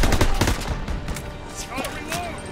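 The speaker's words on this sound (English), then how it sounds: "Suppressive fire! Keep firing!" Continuous gunfire in the Call of Duty WWII video game, rapid sharp shots hammering throughout at close range, with shouted voices faintly mixed into the battle noise.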